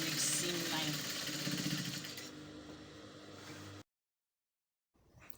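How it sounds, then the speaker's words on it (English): Sewing machine stitching the seams of an A-line maxi dress, a steady mechanical whir running close and loud for nearly four seconds before cutting off into silence, with a faint restart at the end. "I'll go ahead and sew, ensuring that every seam line aligns with every seam line."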